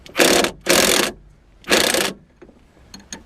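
An impact wrench rattles at the anti-roll bar link nut on a BMW E36 3 Series, three short loud bursts of hammering with brief pauses, followed by faint clicks.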